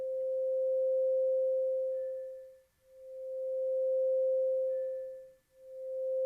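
Pure sine wave synth tone in Bitwig Grid with slow LFO volume tremolo: a steady mid-pitched hum swelling and fading in long, smooth cycles, dipping almost to silence twice, alone and with no talking.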